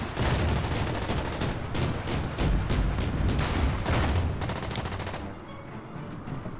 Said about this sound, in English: Now let's take some shots at that AA gun.